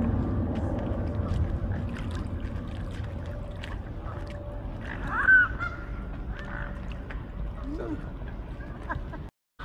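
Ducks on a lake near the Thames at Windsor give a couple of short, faint calls over steady outdoor background noise, with people talking nearby.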